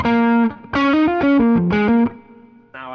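Electric guitar played through a Kernom Ridge drive pedal, a run of distorted sustained notes in a stepping melodic phrase, then a brief pause and a fresh chord ringing out, loud and up close.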